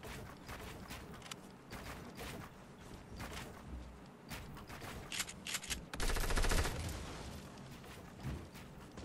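Gunfire crackles in the video game Fortnite. Rapid automatic bursts and single shots go off throughout, swelling into a loud, sustained volley partway through.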